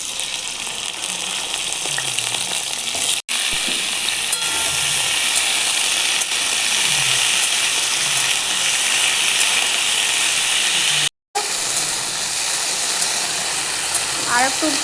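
Vegetables for sambar dal fry in hot oil with a loud, sustained sizzle and hiss, broken by two brief cuts of silence, heard close with no voices.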